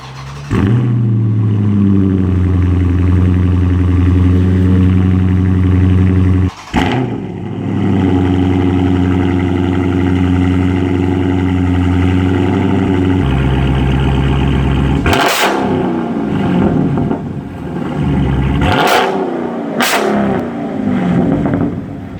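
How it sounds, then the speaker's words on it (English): A 2016 Dodge Charger Scat Pack with a mid-muffler delete rumbles and revs loudly, a deep steady exhaust drone broken by several sharp throttle blips and roaring surges toward the end. "the exhaust, whether it's stock, upgraded, whatever it is, this car is a beautiful freaking machine"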